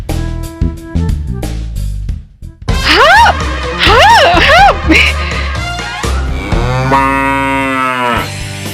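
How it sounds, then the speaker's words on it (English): A cow moos several times in a cartoon scene, loud and close, with rising and falling calls and a longer drawn-out low at the end, over other background sounds. "It's a cow."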